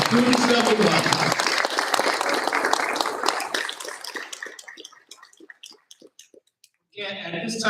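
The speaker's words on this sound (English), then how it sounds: "One more round of applause by students number one." Applause for students of the month at a school board meeting, dense clapping that thins into scattered individual claps and a brief pause before voices and clapping resume near the end.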